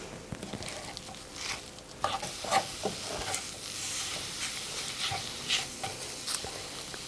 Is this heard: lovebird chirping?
no